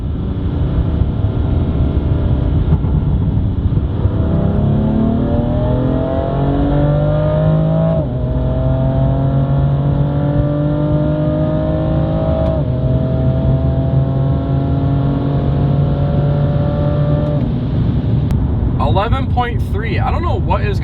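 A BMW M4 accelerating hard on a flat-out run, its engine climbing through repeated rising pitch sweeps with brief dips at each gear change, loud and close from inside the cabin with occasional talk.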